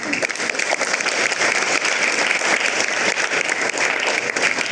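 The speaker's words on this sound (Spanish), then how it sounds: "les pido un fuerte aplauso a nuestra universidad" Steady, dense applause from a sizable audience at a university academic conference, loud and sustained throughout without letting up.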